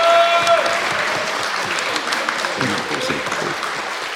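A live festival crowd in Rennes gives sustained applause at a podcast event, a thick, even patter of many hands lasting several seconds, slowly tapering slightly, with faint voices murmuring beneath.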